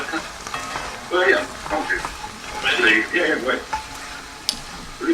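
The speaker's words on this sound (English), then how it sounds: "got some deglazing going over in the home kitchens." Food sizzles steadily in a hot pan being deglazed while making beef stew, with bursts of louder spitting and crackling as liquid hits the metal; a voice murmurs faintly in the background.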